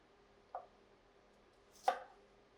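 Garlic being minced with a knife on a cutting board: two separate, fairly quiet chops about a second apart, with near silence between them.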